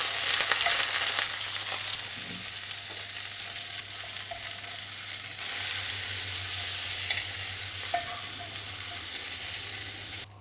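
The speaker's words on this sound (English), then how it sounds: "And then I'm going to do the same with my green beans and my asparagus as well. Just lightly saute them." Green beans, asparagus and carrots sauté in oil in a pan, making a loud, continuous, bright sizzle with a few faint stirring taps, then cutting off abruptly at the end.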